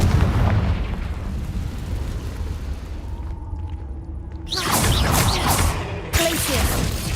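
Confringo fire spells explode in combat in the game Hogwarts Legacy, with booming blasts and crackling bursts over a dense battle din, a strong burst landing near the end and another just after.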